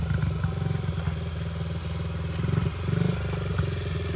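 A Honda CRF50, a small air-cooled children's motorcycle, idles and putters steadily at close range, a low rhythmic engine chug with light mechanical clatter and a couple of brief revs.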